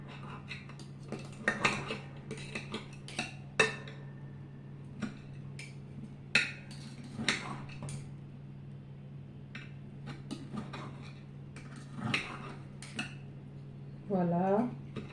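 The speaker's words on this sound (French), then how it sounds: "Je coupe ma tomate." A knife cuts a tomato for an avocado and shrimp salad, giving repeated irregular clicks and taps on a board with a few dish clatters, close by and fairly crisp over a low hum.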